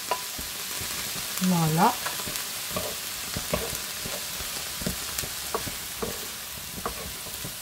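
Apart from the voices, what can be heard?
celery and corned beef stew ingredients frying in a pan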